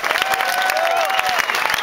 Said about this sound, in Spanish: Un aplauso para Pablo, que ha venido